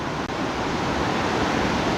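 The Carbon River rushes by at high flow on Mount Rainier's Wonderland Trail, a loud, steady roar of water close by, with one very brief dropout near the start.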